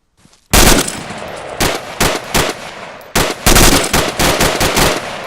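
Loud, close gunfire in a tactical training simulation, starting with one sharp report and continuing as a string of single shots and short bursts at an irregular pace, with no voices.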